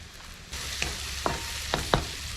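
Pork pieces go into frying onions and masala for a Kerala pork curry, and the sizzle swells at once, followed by several distinct ladle knocks and scrapes against the pan.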